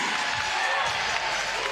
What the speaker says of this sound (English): And the crowd up on their feet.